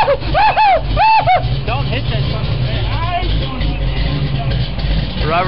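A 1965 Ford Mustang engine runs loud and close, a rough steady rumble with rising revs and tire squeal bursts early on, while people shout and talk over it.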